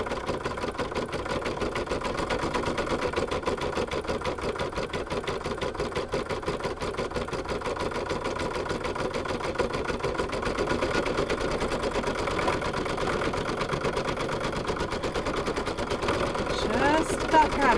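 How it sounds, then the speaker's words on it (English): An embroidery machine satin-stitches an Easter egg coaster applique, giving a constant rapid mechanical chatter and hum that runs steadily and close throughout. "it does that satin stitching over the lightweight stitching"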